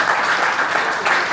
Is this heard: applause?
yes